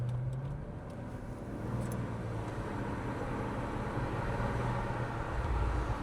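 An Audi RS3 engine drones steadily, with a low hum that rises slightly toward the end as the car moves, close and unbroken, no talk.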